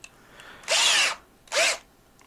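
A power drill drives screws to attach wooden blocks to a towel rack, with two short, close, whining bursts of the motor separated by a brief pause, and no talking.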